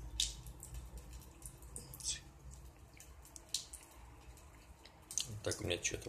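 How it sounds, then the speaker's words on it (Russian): Water trickling weakly from a partly opened household tap, with irregular drips and small splashes; faint, close and uneven, with low background hum throughout. "Вот так у меня течет вода."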